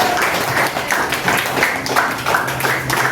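Applause from a group at a school gathering: many hands clapping in a dense, lively patter that runs steadily throughout, close and loud.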